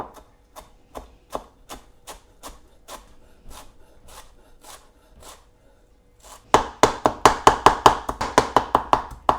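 A knife chops vegetables steadily on a board in evenly spaced strokes, then the rhythm quickens into louder, faster chopping and scraping near the end.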